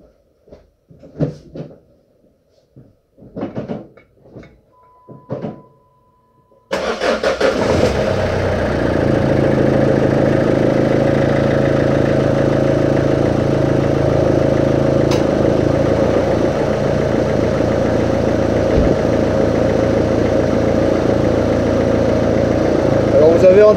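A few clicks and clunks are followed by a Renault Clio 3 1.5 dCi diesel engine cranking and catching, then a steady loud idle rumbles on for the rest of the clip.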